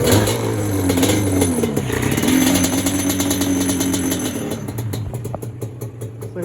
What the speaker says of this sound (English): Let's see how many kicks till she starts.